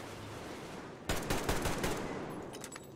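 Rapid automatic gunfire from the video game Metro Exodus breaks out after a second of low ambience, a dense burst of shots that tapers into scattered reports.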